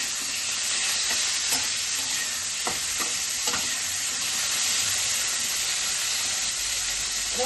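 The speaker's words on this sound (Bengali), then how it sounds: "যে তেলে মাছ ভেজেছিলাম সেই তেলে ফুলকপি আলুটা ভেজে নিচ্ছি।" Cauliflower and potato frying in oil left over from frying fish, for a fish curry: a steady, close sizzling hiss runs throughout, broken by a few soft stirring scrapes, with no talking.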